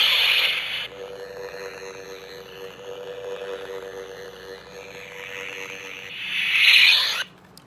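A red crystal plastic toy lightsaber hums with a steady, close electronic drone, bracketed by brighter, louder buzzing bursts at the start and again near the end, with no talking.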